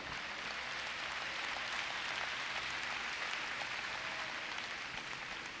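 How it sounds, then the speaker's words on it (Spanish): Sustained, dense applause from a church congregation during a Spanish-language sermon, a steady wash of many hands clapping together at an even level for several seconds with no voices over it. "Denle un aplauso al Señor en esta tarde"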